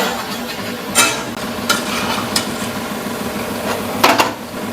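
Urad dal vadas frying in hot oil over a high flame. A continuous bubbling sizzle carries on throughout, broken by several sharp metal scrapes and clinks from a utensil against the pan.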